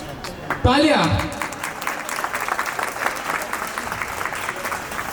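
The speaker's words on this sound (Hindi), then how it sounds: "तालियां।" School annual function audience breaking into applause, a sustained crowd clapping after a brief loud voice at the start, staying steady to the end.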